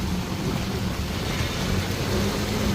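A heavy downpour pours over Kalavad in Gujarat, a dense, constant roar of rain hammering surfaces, loud and unbroken throughout with no voices.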